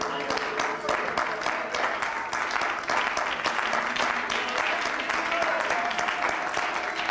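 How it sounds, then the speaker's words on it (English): A church congregation claps hands together in a dense, continuous burst of applause during a worship service, fairly soft and even throughout, with no speech over it. "Let's clap our hands unto God right now."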